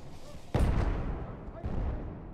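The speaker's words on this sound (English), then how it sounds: "Grenade." A grenade goes off in Battlefield 1 on Xbox One, a loud booming blast followed by a second rumbling explosion and a sharp burst at the end, with rumbling battle noise throughout.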